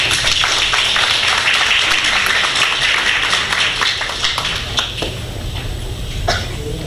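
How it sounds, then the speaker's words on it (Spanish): A university education-week audience applauds to welcome a panel of commentators, a steady wash of many clapping hands that gradually thins and softens toward the end, with no talking over it. "Le damos a ellos la bienvenida con un fuerte aplauso"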